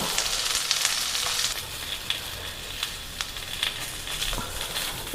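Whole spices such as bay leaf and cumin sizzle and fry in hot oil for a chicken biryani. A steady, close sizzle runs throughout, with scattered sharp pops and crackles.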